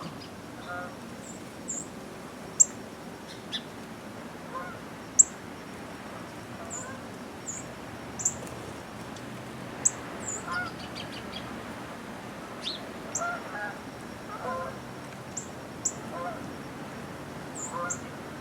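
A pair of northern cardinals, red male and female, calls with sharp, high chips spaced every few seconds. The chips carry moderately over a steady outdoor background hiss.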